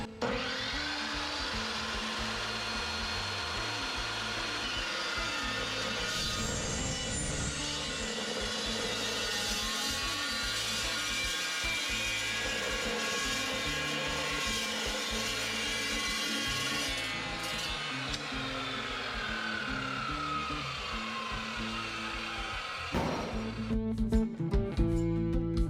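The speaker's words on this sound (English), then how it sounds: "this is a good metal cutting chop saw" A metal-cutting chop saw slices through steel in a fabrication shop, a loud steady motor whine with grinding cut noise that runs almost unbroken for the whole stretch, then shifts and stutters near the end.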